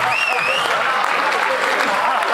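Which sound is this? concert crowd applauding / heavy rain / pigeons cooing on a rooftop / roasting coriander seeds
concert crowd applauding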